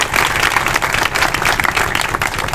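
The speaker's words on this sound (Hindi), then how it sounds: "एक बार जोरदार तालियों से इनका स्वागत करेंगे।" Vigorous applause at a cooperative bank branch inauguration in Jind, a crowd clapping hard and continuously over a low background hum.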